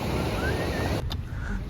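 Large ocean waves roll onto Pantai Selok beach, a steady broadband wash of surf with wind buffeting the microphone and a brief lull near the end.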